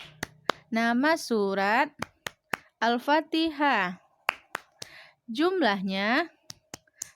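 A rhythmic clapping game for children about Surah Al-Fatihah: sharp claps or snaps beat a steady pattern between and under a woman's sing-song chanted words.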